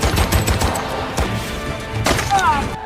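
Gunfire from the war film Fury, with bursts of rapid close shots and heavy impacts layered over a dense battle soundscape, loud throughout.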